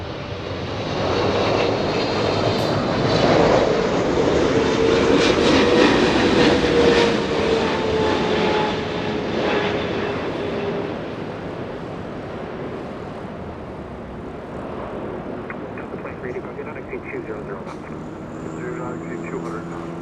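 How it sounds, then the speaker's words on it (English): Jet airliner taking off from runway 24 left at Los Angeles International Airport, a loud roaring engine rumble that swells, holds, then slowly fades as it climbs away, with a voice talking over it. "Runway 24 left, clear for takeoff."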